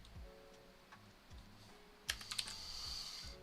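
Someone types on a computer keyboard: a quick cluster of light key clicks comes near the end, close and fairly quiet, after a stretch of low background hum and soft ticking, with no speech.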